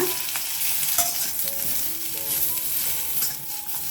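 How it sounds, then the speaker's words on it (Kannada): Ridge gourd fries in a spoonful of oil over high flame, a continuous crackling sizzle with scattered light clicks of a spatula stirring, close and fairly even in volume. "ಒಂದೇ ಒಂದು ಸ್ಪೂನ್ ಎಣ್ಣೆನ ಹಾಕೊಂಡು ಇದನ್ನ ನಾವು ಹುರ್ಕೊಳ್ಳೋಣ"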